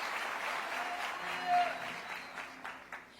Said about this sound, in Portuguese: Pode aplaudir mais alto se for para Jesus.